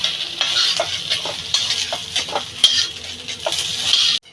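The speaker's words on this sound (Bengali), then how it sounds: "সয়াবিন বড়িটা আমার ভাজা হয়ে গেছে" Soybean nuggets frying in a pan until lightly browned, a bright continuous sizzle broken by repeated scraping stirs and light metal clinks of a spatula against the pan, close and fairly loud.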